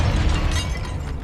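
A Confringo blasting spell is cast in Hogwarts Legacy inside a tomb, giving a loud, sustained crackling burst with a heavy low rumble that fills the whole moment without any voices.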